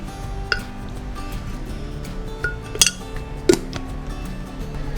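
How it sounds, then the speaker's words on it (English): Eggs stirred in a pot of water with baking soda and salt: a few sharp clinks of shell or utensil against the pot, scattered and spaced apart, over a faint steady background. "We stir them well"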